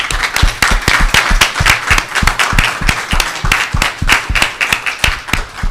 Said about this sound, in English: I'd like you all to join me in giving a round of applause to the candidates.